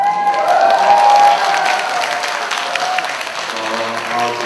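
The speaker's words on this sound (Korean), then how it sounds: "제가 소개를 미리 안 드렸는데도 박수소리가 큽니다." A concert audience in Yeongju breaks into loud, sustained applause at a show marking a 100th-anniversary event, dense clapping holding steady throughout with a little cheering mixed in.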